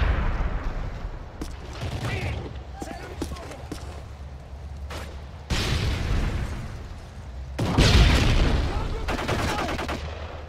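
Grenade explosions and gunfire in Call of Duty: Modern Warfare 3 hardcore team deathmatch on the Resistance map, several sharp bursts and a heavy blast near the end, with players talking throughout.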